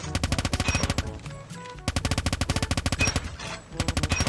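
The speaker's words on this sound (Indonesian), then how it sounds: "Coba kita coba tembak dulu ya" Rapid automatic gunfire from a weapon in the Call of Duty video game, fired in several loud, fast bursts with a brief pause between them.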